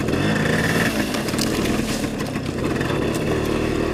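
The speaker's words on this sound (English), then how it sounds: "It's basically a fat wheel dirt bike." A 1975 Suzuki RV-90 fat-tire dirt bike engine runs steadily and loudly up close, revving with a buzzy, continuous two-stroke drone that rises and falls slightly throughout.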